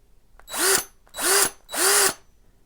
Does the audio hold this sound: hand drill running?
yes